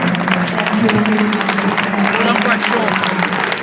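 Football crowd at a West Brom v Millwall match applauding a player being substituted off late in the second half; steady, dense clapping and crowd noise runs throughout under close commentary talk.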